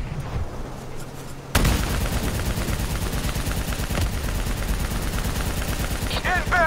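Sustained automatic gunfire and heavy weapons in the Call of Duty: Black Ops 3 campaign, erupting suddenly after a quieter start into a loud, continuous barrage with dense rapid shots and mechanical clatter.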